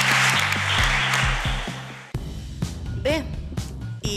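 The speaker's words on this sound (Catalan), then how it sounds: "aquest aplaudiment va per tu, Víctor." Audience applause at an award ceremony, a youth prize event, loud and sustained over music during the first half, then cutting to quieter talk and music.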